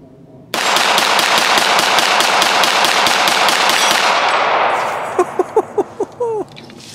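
A CZ Shadow SA pistol fired in a fast string of around twenty sharp, loud reports with almost no gap between them, the ringing fading out as a voice speaks briefly at the end.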